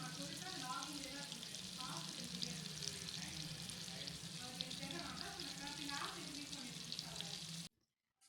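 Vanjaram fish fries in oil over a low flame, giving a steady close sizzle with crackling bursts that runs throughout and cuts off abruptly at the end.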